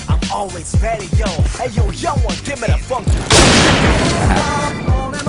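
A single loud, sharp PSG 90 sniper rifle shot in a video game cracks out midway through, after someone talks over quieter game sounds.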